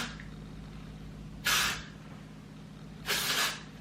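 Texture spray is sprayed onto hair in two short, close hissing bursts about a second and a half apart, separated by a quiet hum of room tone.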